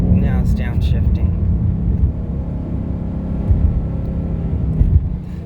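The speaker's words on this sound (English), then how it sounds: "Now it's downshifting." A Ford Mustang with an automatic transmission downshifts while driving in sport mode, a continuous low engine and road rumble from inside the cabin, steady and moderately loud.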